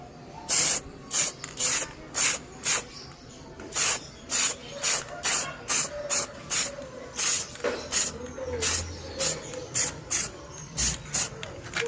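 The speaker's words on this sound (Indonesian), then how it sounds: "Untuk pertama kita semprotkan tipis-tipis saja dulu" Spray paint can applying a thin coat to a mildewed machete sheath, heard as a series of about twenty short, regular hissing bursts, fairly close.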